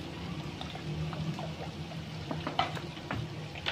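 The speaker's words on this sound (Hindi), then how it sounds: "इसके अंदर पानी शामिल करें" Water pours into a grinder jug holding chopped onions and green chilies, a soft continuous splashing trickle close by, with faint clinks and no talk.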